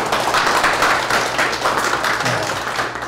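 Audience applause at a corporate lecture at Samjin Industry's Jeonju plant, a dense, steady clapping wash from a crowd lasting throughout, fairly loud and with no voices over it.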